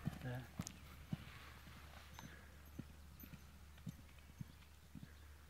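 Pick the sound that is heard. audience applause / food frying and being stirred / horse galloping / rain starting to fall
horse galloping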